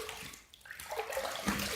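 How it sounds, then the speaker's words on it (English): Water runs briefly from a tap as a razor is rinsed during a wet shave. The flow is soft and splashy and lasts only a moment. "Let's rinse."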